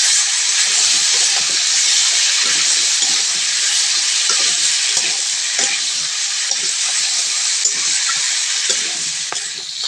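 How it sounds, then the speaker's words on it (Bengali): Cut cauliflower and potatoes fry together in a hot pan, giving a loud, continuous hissing sizzle with frequent stirring scrapes throughout. "ফুলকপিগুলো দিয়েও ভেজে নেব"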